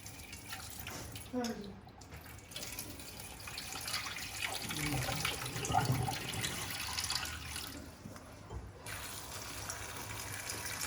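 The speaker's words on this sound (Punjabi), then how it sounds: "ਪਾਣੀ ਪਾ ਕੇ ਇਹਨਾਂ ਨੂੰ ਚੰਗੀ ਤਰ੍ਹਾਂ ਧੋ ਲੈਣਾ" Water gushes steadily from a tap over green chillies being washed for pickle, a continuous splashing rush that lasts about eleven seconds with small swells in loudness.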